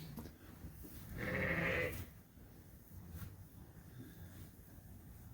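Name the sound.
sheep (ewes) bleating in a barn at lambing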